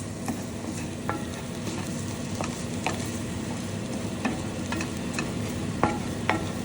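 Cauliflower and egg fried rice sizzling in a pan over medium heat, a continuous frying hiss with scattered small pops and occasional utensil clicks, close and fairly loud, no voices.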